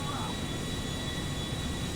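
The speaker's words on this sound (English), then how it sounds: "My God, this plane is so loud." Constant broadband roar of jet engines heard from inside an airliner cabin, a steady wash of noise at moderate level with a faint high tone running through it.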